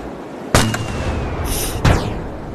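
Two booming cannon shots in the video game Yeeps about a second apart, sharp and loud over a steady background roar, with a brief hiss between them.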